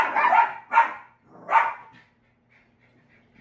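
Small puppies bark indoors in three quick, fairly close yappy bursts, followed by a brief quiet tail with faint whimpering noise.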